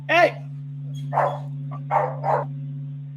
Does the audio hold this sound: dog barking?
yes